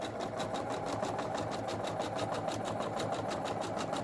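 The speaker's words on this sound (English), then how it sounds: "We're going to continue sewing along our marked line, making sure that your seam is laying nice and flat." A sewing machine stitches a seam on a durable reusable tote shopping bag, running steadily at an even, rapid mechanical rhythm, close and clear without speech.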